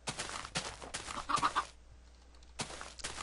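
Chickens cluck in short, clipped bursts in the video game Minecraft, several separate clucks spaced over a few seconds, fairly close and clear, with no voices.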